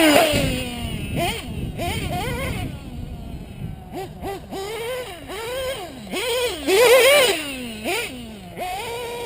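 A dirt bike engine is revved hard with the throttle pinned wide open, its pitch swooping up and down in a run of repeated surges, loud and close, with brief gaps and some talk mixed in.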